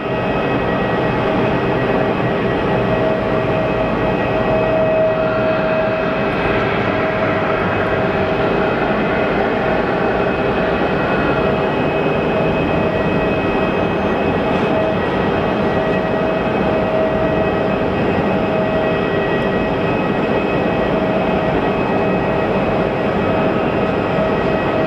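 A WestJet airliner arrives at Sky Harbor Airport, its jet engines producing a loud, steady roar and whine that holds throughout without fading, with no talk over it.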